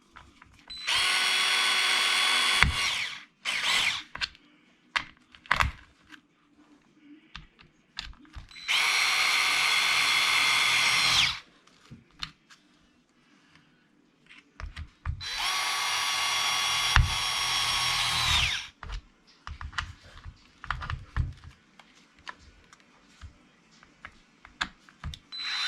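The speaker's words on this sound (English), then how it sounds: "we'll tighten up these screws" A cordless power drill tightens screws on the cover of an E-Revo 2.0 RC truck in three loud whirring bursts of a few seconds each, separated by quieter clicks and handling noises.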